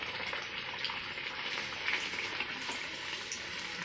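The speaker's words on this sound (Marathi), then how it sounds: "तेल तापलं आहे, आता पुरी टाकून देऊयात" A puri fries in hot oil, a dense, steady bubbling sizzle with fine crackles heard up close and alone for a few seconds.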